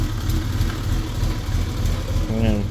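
A BMW E30 engine idles with a steady low rumble under a faint background voice, with a brief whine near the end.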